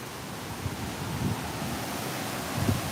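Steady hurricane wind gusts through a street between closely packed houses during a squall, a continuous broadband roar with slight surges, no voices.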